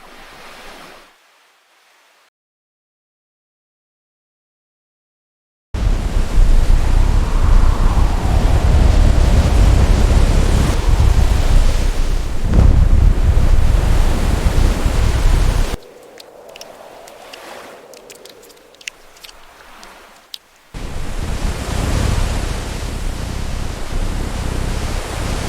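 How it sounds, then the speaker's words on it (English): Ocean surf and wind along the Northern Samar coast in the Philippines, loud and continuous in broad roaring washes, broken by a stretch of near silence and a quieter, thinner passage before the surf roar returns. "Across this ocean, there's nothing to soften the wind or the tide."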